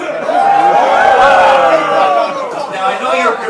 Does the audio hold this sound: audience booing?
yes